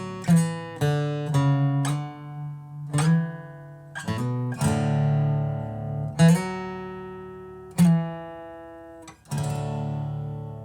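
An acoustic guitar in drop D plays a slow opening lick: separate plucked notes and strums ring out one after another, each decaying before the next, close and clear with no talking.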